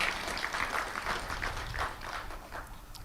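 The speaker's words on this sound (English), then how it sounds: "Let's clap for our visitors." An audience in Uganda claps for visitors from Pakistan, a moderately loud, busy patter of many hands with a slightly rhythmic pulse, continuing evenly for the whole moment.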